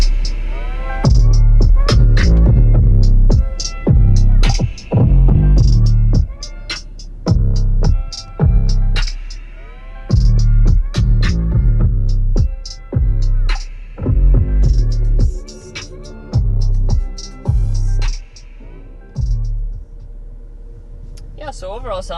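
Music playing through the optional 14-speaker Bose Performance Series sound system in a 2022 Cadillac XT5, heard inside the cabin with strong, punchy bass beats in a steady rhythm and vocals over it.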